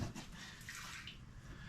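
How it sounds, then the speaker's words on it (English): Gasoline draining from the fuel line of a 1998 Yamaha G16 gas golf cart, a soft continuous trickle of liquid, faint and steady, with no talk. "Just going to let that gas drain out of there."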